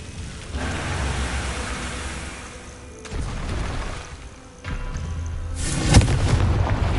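In Hogwarts Legacy, the Confringo blasting spell sets off loud, rumbling explosions that surge in waves over a constant roar of battle noise, ending in a sharper, brighter burst near the close.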